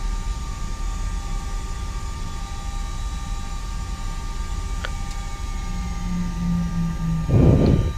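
A steady drone of simulated Airbus A320 engines in X-Plane 11 runs throughout, with a constant low rumble and faint tonal whine, plus a brief louder noise near the end.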